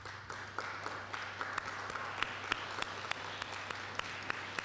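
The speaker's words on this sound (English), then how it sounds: "Please stand so that we can all applaud your work in supporting this program." A standing audience at a college graduation ceremony applauds, faint and distant, with scattered individual claps standing out from a soft continuous patter.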